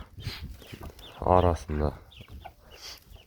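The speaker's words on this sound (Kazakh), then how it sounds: "Мынау алдында бір күзде балапан шығарған тауық." Hens cluck on a village farm on a snowy winter morning, with a couple of close, loud clucking calls in the middle and softer fowl noises around them, while someone talks nearby.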